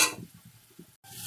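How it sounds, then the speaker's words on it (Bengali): Sliced onions frying in a pan with Kashmiri red chili powder, stirred with a few scraping strokes over a soft sizzle that cuts out briefly, close and moderately quiet. "2 থেকে 3 মিনিট ভালো করে ভাজা করে নেব।"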